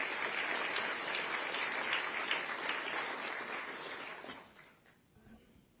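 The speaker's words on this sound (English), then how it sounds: "Give them a round of applause," Audience applause at a Detroit business breakfast event honoring its sponsors, a dense steady wash of clapping that holds for about four seconds, then thins and fades toward the end.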